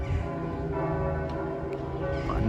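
Church bells ring over a sustained organ drone from the church, steady and moderately loud, with rich harmonic tones filling the space.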